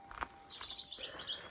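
A small bird chirps in a cottage garden near a barn, a few thin high tweets and short calls spread across the moment, faint and somewhat distant against quiet outdoor background.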